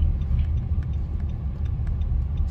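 Steady traffic rumble from many vehicles passing on a rainy-area road, a continuous low roar with faint ticking, no clear individual pass-bys standing out.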